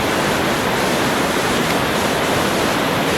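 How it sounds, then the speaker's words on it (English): A river runs beside Phelps Lake in Wyoming, a loud, constant broadband rush of flowing water with no pauses and no voices. "Phelps Lake, Rachel and I, sitting here by the river"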